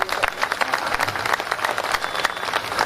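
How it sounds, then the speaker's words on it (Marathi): An audience at a stage event bursts into dense, continuous applause, many hands clapping together at an even, lively level for the whole stretch. "जोरदार टाळ्या झाल्या पाहिजे"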